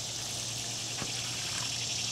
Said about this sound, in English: So I'm gonna water the garden and give it a nice little watering today.